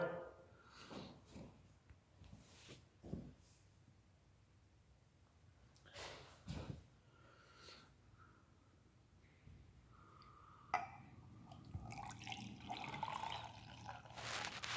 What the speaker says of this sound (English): Let's add the hot water.